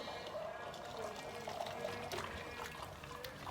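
Running water rinses through hair during a hair-care routine, a faint, steady flowing and trickling wash that stays even throughout.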